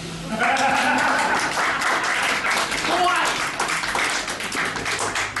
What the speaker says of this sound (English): give a round of applause for Ashley